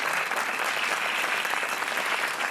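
Studio audience on the Portuguese game show Joker applauds a contestant, dense, even clapping that holds at a steady level throughout the brief stretch, with no talk over it.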